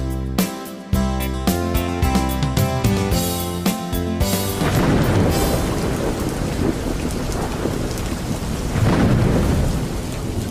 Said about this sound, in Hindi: बारिश नहीं रुकेगी